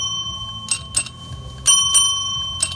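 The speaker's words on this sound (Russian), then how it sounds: "вкратце покажу, как работает данный полимер на примере колокольчиков" Two small bells, one bare and one coated with a sound-damping polymer, rung in turn, giving several short bright rings, some clear and ringing, others duller, with quiet gaps between them.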